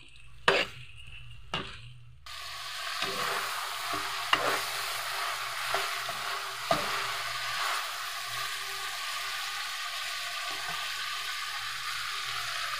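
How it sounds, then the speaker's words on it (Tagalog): Chicken sautéing in a pan for a tinola-style dish gives a continuous close sizzle after a few sharp clanks at the start, with intermittent spoon scrapes and knocks as it is stirred. "Igisa natin ng maayos para sumarap yung ating linuluto."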